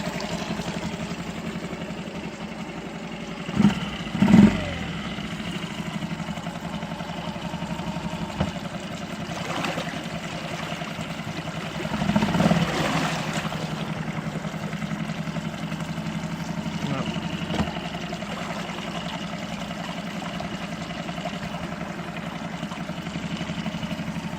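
2006 Yamaha 4 hp four-stroke outboard motor running, a steady, fairly quiet idle hum with a few brief louder bumps, heard alone without talk.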